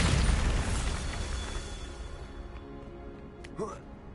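The Bombarda spell from the video game Hogwarts Legacy goes off as a loud, close boom that rumbles and slowly fades, followed by a short, sharp magical flourish near the end.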